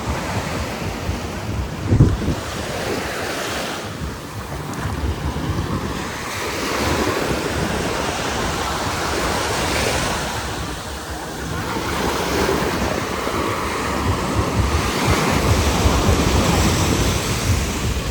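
Steady surf of the sea in Greece washes and rolls continuously, with gusts of wind buffeting the microphone and no voices.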